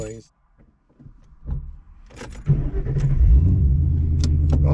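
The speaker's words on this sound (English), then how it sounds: "just do a sound clip with the exhaust" A car with a Calimer stage 3 full exhaust and a new Street Fighter clutch starts after a few quiet clicks, then settles into a steady, loud, deep exhaust rumble up close.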